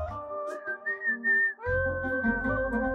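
A person whistles a clear, wavering melody indoors at home, first alone and then over a low rumbling background, loud and close.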